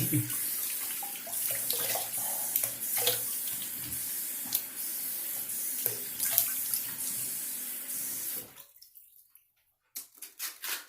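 Tap water runs steadily into a sink while rinsing after a shave with a Gillette Guard razor, a continuous splashing flow that cuts off near the end, leaving brief faint drips and small sounds.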